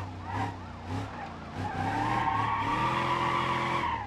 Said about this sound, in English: I am just burning tires.